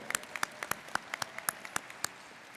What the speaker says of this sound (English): Yes, I heard some applause over there.